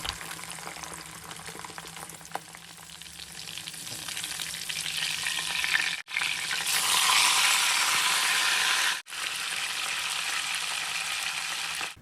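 Milkfish (bangus) frying in hot oil in a wok-style pan, a steady loud crackling sizzle that swells and dips with brief breaks, close and without talk.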